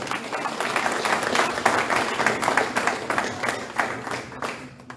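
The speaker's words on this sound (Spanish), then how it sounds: "Denle un aplauso al Señor." A church congregation applauds during a sermon, a dense wash of many hands clapping at once that swells and then tapers off near the end, with no talk over it.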